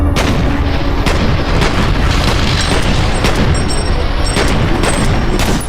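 Continuous loud booms and rumbling blasts pile up with sharp cracks, like a constant barrage of explosions and gunfire, in the video game F.E.A.R.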